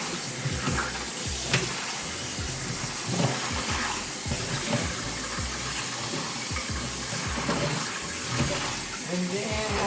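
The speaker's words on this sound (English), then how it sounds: "We just have to let this rinse this in running water." Running tap water pours steadily over fermented napa cabbage in a colander, a close, continuous splashing hiss with small irregular spatters and dripping throughout.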